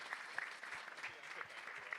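Audience at a FightFest martial arts competition applauds, a quiet, scattered patter of clapping heard from a distance, with a voice speaking faintly over it.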